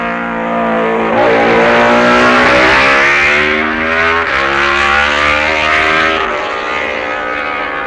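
A 1966 Honda racing motorcycle at the Isle of Man Senior TT screams past, its high-revving engine loud and close with shifting pitch as it accelerates and changes gear.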